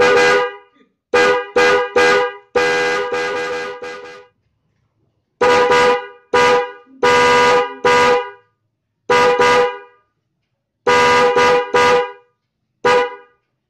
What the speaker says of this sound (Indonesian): itu dia suara klakson dari Denso trompet nih